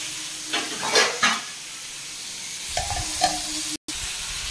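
Vegetable stalks are stirred in a frying pan, with a few bursts of scraping and rustling over a soft background hiss and a short pause between movements.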